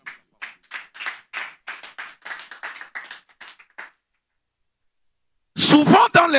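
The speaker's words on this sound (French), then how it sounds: "Acclamons la parole de Dieu." Rhythmic clapping from a church congregation during a French-language sermon, a run of loud, evenly spaced claps that stops, then after a short silence a preacher's voice returns close by.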